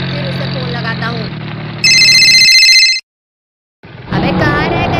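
An electronic phone ringtone chimes briefly and loudly amid a comedy sketch, after a low engine-like hum and voices, then cuts to a moment of silence before more talk.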